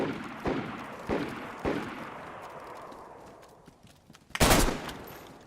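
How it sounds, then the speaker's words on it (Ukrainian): Gunfire in the video game DayZ: several sharp shots at steady intervals, each followed by a long decaying echo, then a louder burst close by near the end, with no talking. "Чуєш ще вистріли десь недалеко."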